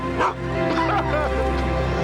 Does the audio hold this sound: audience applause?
no